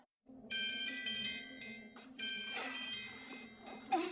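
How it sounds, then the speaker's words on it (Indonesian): A phone rings twice in the action film I Am Vengeance, its bright electronic ringtone loud and close, with a short gap between rings and soft rustling at the end. "Yang kemudian ia dibangunkan dengan telepon dari Lumber."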